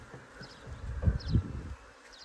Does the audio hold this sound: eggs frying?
no